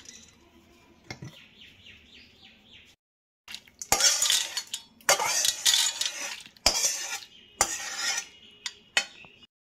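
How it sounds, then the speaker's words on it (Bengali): Urad dal being washed in a bowl, with clinks and scraping of the bowl and grains in short bursts, a quieter start giving way to louder splashy rattling, near and alone. "ডালটা খুব ভালো মতন 2-3 বার ধুয়ে নিচ্ছি। বাটির মধ্যে ডালটা ঢেলে নিচ্ছি।"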